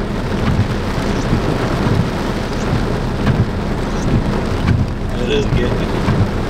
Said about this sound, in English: just a small little thunderstorm.